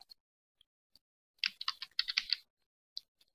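Quick clicks of typing on a computer keyboard: a short burst of rapid keystrokes in the middle, with a few isolated taps before and after, close and quiet.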